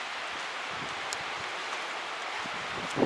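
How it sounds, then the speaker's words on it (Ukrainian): Steady, broad rushing wind noise outdoors in the Carpathian mountains, continuous and fairly even, with a faint rustle throughout. "Ого, вітер жесть просто."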